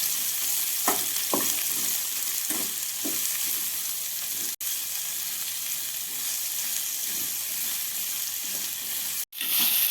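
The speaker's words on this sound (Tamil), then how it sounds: "வெங்காயம் நல்லா வதக்கி விட்டுறணும்." Chopped onions with salt sautéing in a pan for egg paniyaram give a steady close sizzle, broken by several scraping stirs near the start, with no one talking.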